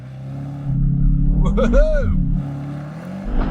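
Bentley Continental GT Convertible launching hard with left-foot braking, engine held at high revs and then surging forward, a loud rising engine roar with whining harmonics over rumble, as someone whoops with excitement.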